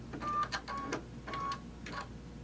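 An embroidery machine stitches a zippered pouch in the hoop, making a quiet, rhythmic whirring with soft repeated pulses, close and steady.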